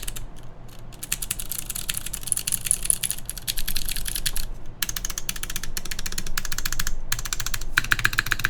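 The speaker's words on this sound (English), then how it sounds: "the modifiers sound really good with these clicky switches" Rapid, dense clicking from a mechanical keyboard with clicky switches, including the modifier keys, crisp and close, steady throughout with one brief pause midway.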